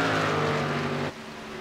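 Race cars at Indianapolis in a K&N Series stock car event, engines roaring loud and steady at close range before dropping off sharply as the cars pull away.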